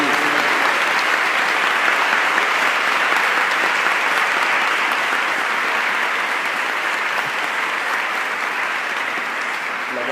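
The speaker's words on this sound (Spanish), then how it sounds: "dándole un gran aplauso a las personas" Sustained applause from a sizable conference audience after an education and technology debate, an even wash of clapping that holds steady for about ten seconds.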